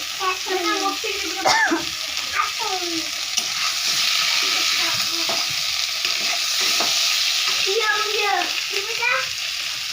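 A spice mix sizzles and crackles steadily in a pan for a cauliflower and katla fish curry, with occasional stirring. A voice talks over the frying almost the whole time.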